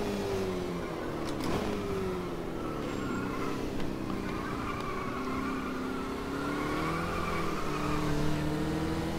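A stock car in a racing game drones on steadily at close range, its engine pitch climbing and dipping as the throttle rises and eases, with no talking.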